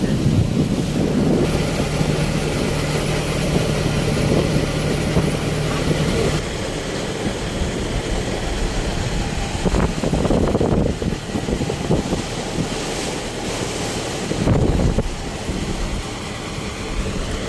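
A rocking boat moves through open sea between Jafrabad and Shiyal Bet island, Gujarat, with heavy wind buffeting the microphone, water rushing and sloshing against the hull throughout.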